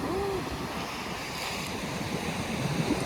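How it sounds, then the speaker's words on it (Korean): Waves wash floating glacier ice ashore on a beach near Jökulsárlón, Iceland, a steady close roar of surf with wind buffeting the microphone throughout. "지금 요쿠 살론에서 떠 내려온 빙하가 이쪽으로 이렇게 와가지고 파도 쳐가지고 오는 거지"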